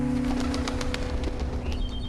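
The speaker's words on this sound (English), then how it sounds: "It sounds like flapping wings." A bird in the Finding Paradise video game beats its wings and flies off: a quick run of soft flapping bursts over steady musical tones and a low hum.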